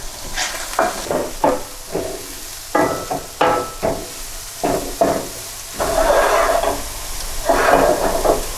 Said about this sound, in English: I will add the white onion